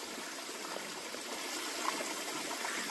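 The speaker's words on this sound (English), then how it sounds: "It's all full of moss as the water's running." A clear mountain stream choked with moss runs in a steady, soft rush of trickling water along a hiking trail, with no other sounds.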